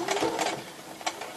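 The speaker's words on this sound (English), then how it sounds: "put it underneath my sewing machine. Just going to back stitch a couple of stitches." A domestic sewing machine back stitches a few stitches on a tea towel: a short, close, quiet mechanical whirring burst, then a brief second run, with no talking.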